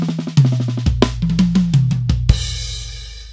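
A quick drum fill of paradiddle-diddle sticking played alone, rapid strokes rolling across drums in a steady rhythm, ending on a loud cymbal crash that rings out.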